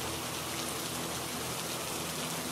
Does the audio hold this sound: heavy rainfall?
yes